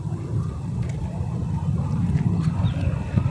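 The MPFI engine of a 2002 Maruti Omni van runs at a steady, moderate, low rumble over a few seconds, with faint wind-like noise on top.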